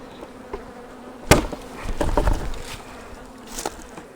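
Honey bees buzzing steadily around a hive while fall honey supers are pulled, a close insect drone with a couple of sharp knocks and clunks of equipment in between.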